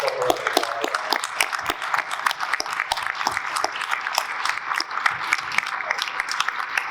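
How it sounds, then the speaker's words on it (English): Audience applause for chamber of commerce staff at a meeting, with dense, steady clapping from a room of people lasting several seconds. "will y'all stand up, please, and give yourself a round of applause"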